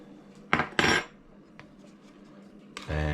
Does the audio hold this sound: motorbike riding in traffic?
no